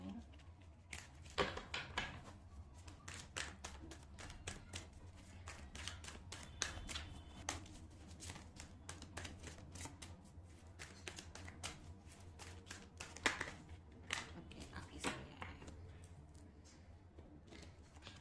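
Tarot cards being shuffled by hand, a steady run of soft riffling flicks and taps at close range, continuing through the whole stretch, with faint background hum.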